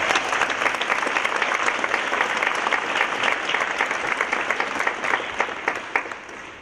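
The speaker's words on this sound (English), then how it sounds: "Can we round of applause?" Audience at a fashion night event claps in sustained, even applause, moderately loud and continuous, with a few sharper individual claps standing out near the end as it fades.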